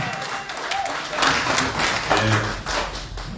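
A crowd at a gathering claps steadily to welcome the Nyandarua Senator, a dense burst of applause lasting a few seconds with voices mixed in.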